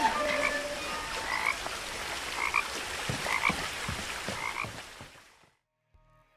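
Video game forest ambience with frogs croaking repeatedly over a steady background of chirping insects, then fading abruptly into silence.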